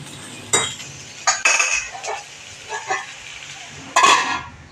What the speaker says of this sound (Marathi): त्याच्यावर पुन्हा एकदा झाकण ठेवणार आहे